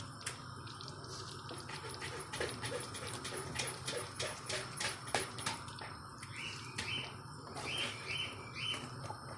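A budgerigar's small chirps and tweets come in quick repeated bursts, with faint dripping water and kitchen clatter around them.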